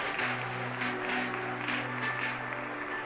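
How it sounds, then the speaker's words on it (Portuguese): A church congregation applauds during a family worship service, a broad steady wash of clapping from many hands that fills the whole moment, with a low sustained organ or keyboard tone humming underneath. "Aplauda o Senhor e se coloque de pé."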